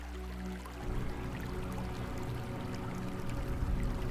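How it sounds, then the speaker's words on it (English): Soft splashing of slow-moving water along a riverbank, a steady low wash and gentle pouring that runs unbroken and fairly quiet throughout, with no voices. "a soft splashing tears your gaze away from the slow-moving water"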